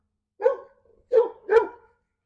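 Neighbouring dogs bark at a passing dog walked across the street: three sharp, fairly close barks, one single and then a quick pair, against otherwise quiet surroundings.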